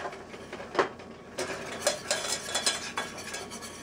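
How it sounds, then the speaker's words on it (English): A whisk scrapes and clicks against a pan while stirring flour into melted butter for a roux, in quick uneven strokes with light metallic taps, close and alone without talk. "And then we're going to add 2 tablespoons of flour. And we're going to whisk that in."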